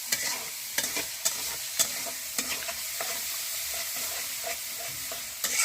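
Onion and green chili sizzle steadily in a hot pan while a spatula scrapes and stirs, sharp clacks landing at irregular intervals over the continuous hiss. No one speaks.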